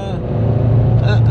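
A Ford Focus 1.6 TDCi diesel engine runs steadily up close, with a loud, continuous low drone and no clear change in pitch.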